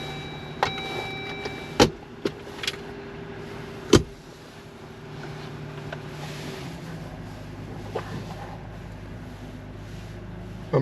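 A Jeep Gladiator drives just after a gear ratio change, with a steady cabin hum from the road and engine, a few sharp clicks and knocks early on, and no talking.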